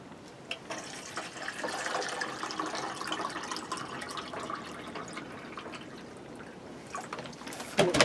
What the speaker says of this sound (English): I got this big ginormous jug of water here to fill it up with